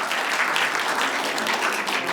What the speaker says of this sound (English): I want to hear applause for that.